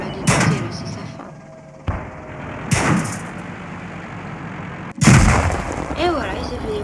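Tank cannon shots in the World of Tanks video game: three heavy booming blasts a couple of seconds apart, each with a rumbling tail, the last one loudest and followed by a ringing tone.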